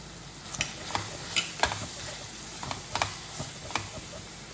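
Tomatoes with Kashmiri chilli powder and other masala gently sauté in a pan on low heat for mushroom biryani, giving a soft, steady sizzle with occasional spoon clicks and stirring scrapes, fairly quiet and with no voices.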